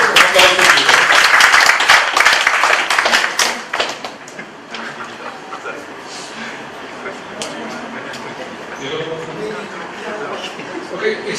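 Audience clapping at a graduation gathering, dense and loud for about four seconds, then thinning into scattered claps and a murmur of voices with talk over it.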